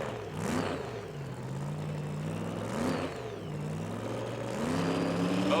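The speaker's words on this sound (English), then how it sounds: "Both cars building some heat in the engines, and listen to the RPMs come up at the starting line" Powerful drag racing car engines rev repeatedly at the starting line of a 1982 NHRA Pro Comp race, pitch rising and falling in surges, a loud rumbling roar with no talking.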